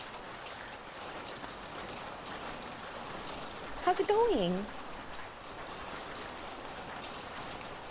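Rain falls outside as a steady, soft hiss, while a nearby voice speaks briefly over it.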